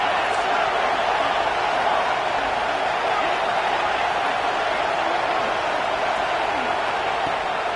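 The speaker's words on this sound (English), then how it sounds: "Here comes the noise from this big crowd in Happy Valley on 3rd down." A large college football stadium crowd in Happy Valley roars on third down in a dense, sustained wash of noise, loud and unbroken throughout.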